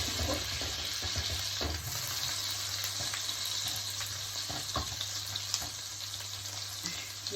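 Chopped onion and garlic fry in butter in a pan, giving a continuous close sizzle with occasional stirring scrapes and light clicks throughout.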